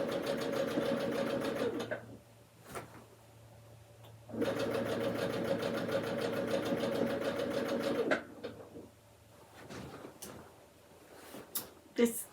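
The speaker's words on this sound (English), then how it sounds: "This machine has a preset setting for whatever stitch you're doing. So I'm doing the straight stitch" Sewing machine running a preset straight stitch on quilt pieces in two sustained close bursts of rapid whirring, separated by pauses with clicks and handling sounds.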